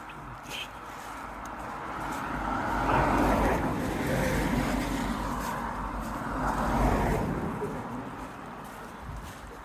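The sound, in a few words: cars passing by on a road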